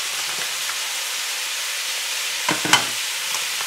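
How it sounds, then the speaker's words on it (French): A steady frying hiss as mixed vegetables are stirred in a pan, with a couple of short scraping stirs near the end, no voices. "Maintenant, on va mélanger nos divers légumes."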